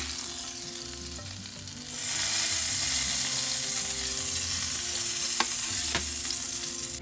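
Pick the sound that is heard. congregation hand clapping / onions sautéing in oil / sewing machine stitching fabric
onions sautéing in oil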